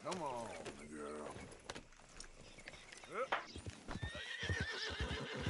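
A horse in Red Dead Redemption 2 whinnies near the start, with hooves clip-clopping on and off while someone talks over it.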